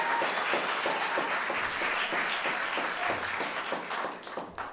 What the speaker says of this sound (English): I just want you all to give one more round of applause to